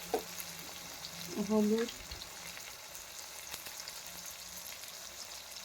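Ginger fries in a pan with salt and turmeric, a soft steady sizzle with a brief stirring scrape partway through while a person speaks quietly.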